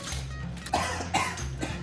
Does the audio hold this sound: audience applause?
no